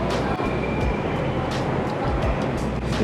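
Train arriving at a London station: a steady, loud rumble of rail wheels and carriages rolling in close by, with faint clanks and a continuous roar throughout, no voices.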